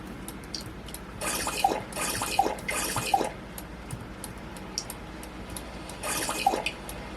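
Water being collected in the survival game Stranded Deep, a few short bursts of splashing, pouring water separated by quieter pauses, moderately loud over a low background hiss.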